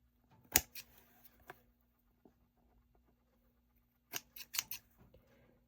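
Scissors clipping off two pieces from a thrift-flip frame backing: a sharp close snip, then quiet, then a quick cluster of three or four crisp snips, with no talking.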